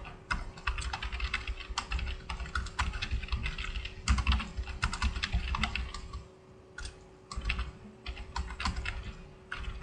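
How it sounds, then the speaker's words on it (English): Fingers tap quickly on a computer keyboard in uneven bursts of close keystrokes, pausing briefly before resuming, over a faint steady electrical hum. "Let me type first and then I'm gonna read."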